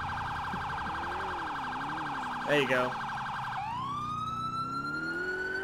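Police car siren in the video game GTA IV with the LCPDFR mod, a steady wailing siren that switches partway to a rising yelp, loud and continuous, with a brief voice speaking over it.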